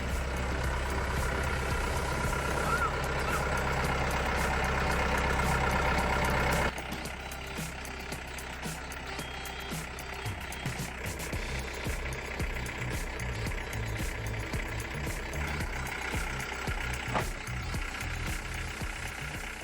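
A tractor engine running close by, a loud, rough, knocking idle. Partway through it shifts to a lighter, uneven chugging with clanks and rattles.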